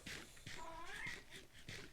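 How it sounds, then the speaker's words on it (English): A small pet kitty lets out a single soft, rising meow indoors, quiet and close, with faint background noise. "Come here. Come here, little kitty."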